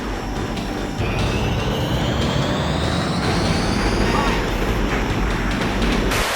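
Roaring jet engine noise from After Burner on a Sega Saturn, a loud, steady dense rush with a rising whine sweeping upward, continuous throughout with a brief surge near the start.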